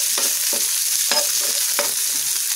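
A large chopped onion frying in a pan gives a continuous close sizzle, broken by regular scraping stirs roughly every half second, no voices.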